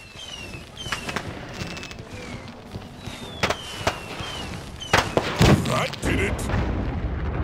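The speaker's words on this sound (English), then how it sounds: "The swivel gun! There! It will finish the fire ship once and for all." Swivel gun firing at a fire ship in the Pirate101 game, sharp booming shots scattered through a few seconds with a louder burst near the end, over a busy battle backdrop as a voice speaks.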